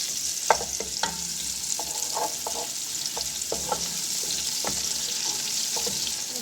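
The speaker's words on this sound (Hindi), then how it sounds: "तो हम थोड़ा सा सौते कर लेंगे।" Marinated chicken paste with chopped onion sautés in a pan, a steady sizzle punctuated by scattered clicks and scrapes of stirring, close and fairly quiet.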